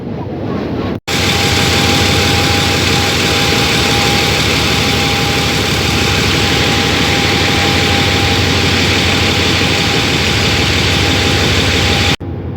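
An Alstom diesel locomotive, number 4139, idles on a Thai railway line toward Bangkok's Hua Lamphong station, a loud, close, steady engine drone with a constant hum that holds unchanged for over ten seconds.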